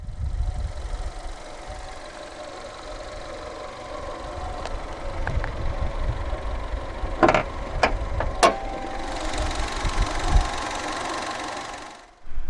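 A 2016 Fiat 500 with a 1.2-litre naturally aspirated inline-4 petrol engine idles steadily and close by, a low even rumble broken by a few sharp clicks before it cuts out near the end, with no talking.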